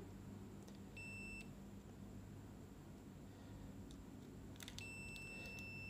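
Two short high-pitched multimeter continuity beeps over a low steady hum, one early and one near the end, faint and clean, while testing a switching power supply.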